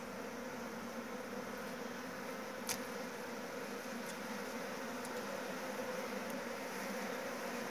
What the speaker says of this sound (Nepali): म मौरी भनेको चाहिँ यस्तो हुँदो रहेछ गाउँको